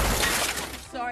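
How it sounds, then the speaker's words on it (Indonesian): Car window glass smashed in a film scene, a loud crashing shatter with scattering fragments filling the short moment, ending in a ringing tail. "Kaca mobil Xander kemudian dipecahkan oleh Jenny yang cemburu."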